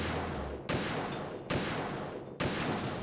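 Three evenly spaced gunshots ring out in Metal Gear Solid 2, each a sharp crack with a short rolling tail, over a steady background hum at modest loudness.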